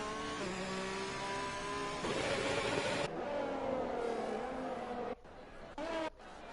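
Formula racing cars pull out of the pit lane in a racing video game, Belgium GP, with engines droning and rising in pitch over one another, then cutting out abruptly near the end while faint chatter sits underneath.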